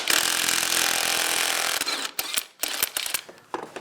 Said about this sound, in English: Now I'm just going to get this axle bolt off.